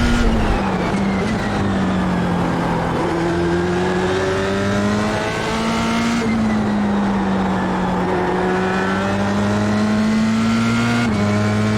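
Formula 3 single-seater at Sebring in iRacing, its engine droning loud and steady throughout, with pitch sweeping up and down through gear changes and a brief dip in revs mid-lap.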